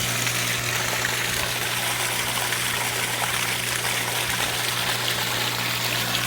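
A swimming pool pump runs during a sand filter rinse, a constant hum with steady rushing, trickling water, close and unbroken throughout.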